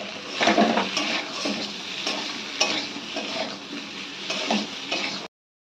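Taro root and fried prawns are sautéed in a pan, with a steady sizzle and repeated scraping stirs of a utensil against the pan, close and continuous until it cuts off abruptly.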